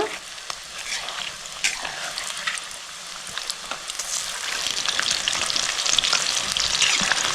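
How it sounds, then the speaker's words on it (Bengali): Chicken pieces fry in hot oil for chilli chicken, a close, continuous crackling sizzle with scattered pops and stirring, growing slightly louder toward the end. "এটা হয়ে গেলে চিকেনটা ভালো করে ভেজে নেব।"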